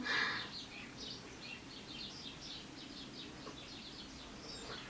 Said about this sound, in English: I think you can hear the birds through the camera, so because they're like right here in front of my window